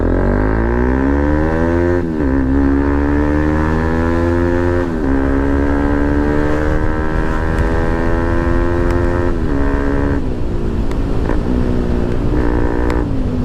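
Revving from a modified exhaust on a Bajaj Pulsar NS200 motorcycle, close and loud, with repeated throttle blips rising and falling in pitch over a steady idle, no voices.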